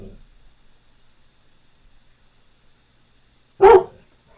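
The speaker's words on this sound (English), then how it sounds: "Bark louder for bigger candles, Bella" Dog gives a single loud bark after a long stretch of near silence, close to the microphone.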